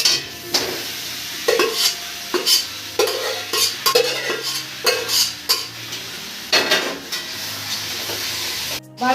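Mutton pieces stirred into a spice masala in a pan on a gas stove, frying with a steady sizzle while a spoon scrapes and knocks against the pan in repeated close strokes; no voices.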